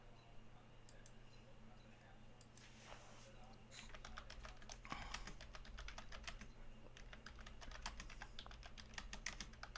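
Quick, irregular taps and clicks of someone typing a text message on a phone, close and soft, with background room noise and occasional voices.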